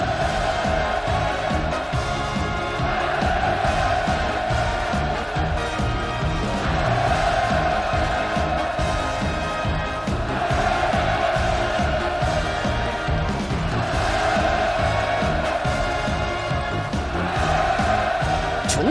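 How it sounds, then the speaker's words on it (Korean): A large crowd roars in sustained, enthusiastic cheering at a holiday camp inauguration ceremony in North Korea, a dense, even wall of voices that continues unbroken and loud throughout. "열광의 환호성으로"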